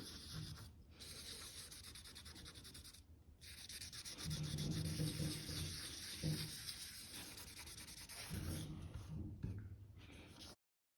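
Hand sanding of a clearcoat run on car paint produces close, steady rubbing strokes in long bursts separated by brief pauses.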